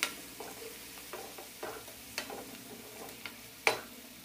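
Chopped tomato, onion and green chillies cooking in a pan for a sprouted black chana dish, a soft sizzle broken by a series of irregular stirring scrapes and clicks from a utensil, close and alone.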